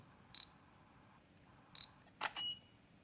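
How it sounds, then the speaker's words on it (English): Two soft shutter clicks from an Olympus E-M5 a second or so apart, then a sharp click followed by a short electronic beep from a Godox TT350 flash, all faint against a quiet background. "there is a beep after I take a shot"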